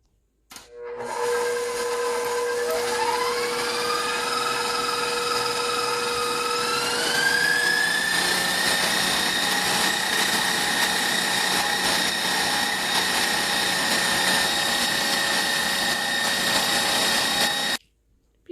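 An electric hand mixer whirs steadily for a long stretch, its pitch rising early as it speeds up, beating eggs with a glass of granulated sugar for chocolate chip cookies, then stops abruptly.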